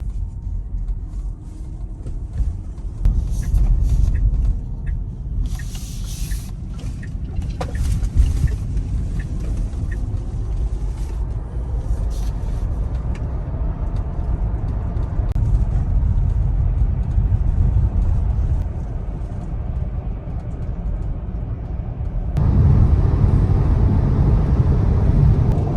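Tesla Model Y driving on a road on the way home, a steady low road rumble and tyre noise running continuously from a cabin perspective, loud and unbroken with slight swells.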